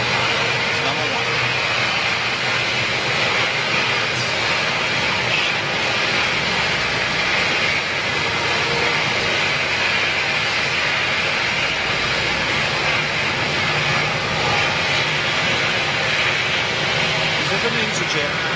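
An EasyJet jet airliner at Hamburg Airport roars as a steady, broad engine noise across the whole stretch, with voices talking faintly over it.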